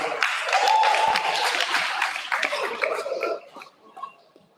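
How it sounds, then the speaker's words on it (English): Students at a high school awards ceremony clap in a dense burst of applause that fills the room, then thins out and tapers into scattered claps by the end. "Give yourself a round of applause."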